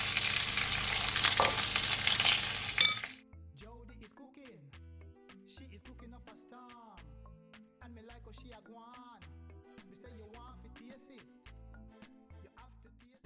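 Lamb chops frying in a pot give a loud, dense sizzle for about three seconds before it cuts off, leaving quiet music with tones.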